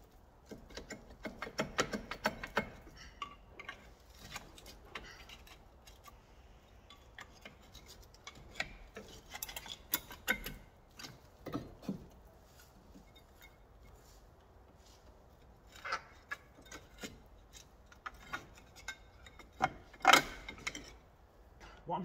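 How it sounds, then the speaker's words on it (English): Wrench work on the rear brake caliper holder of an Alfa 145, bolts being undone and loosened: scattered metallic clicks, ratcheting and scraping in uneven bursts, fairly close, with quieter gaps between. "I'm just undoing one of the bolts and loosening another one off so I can then get the disc out"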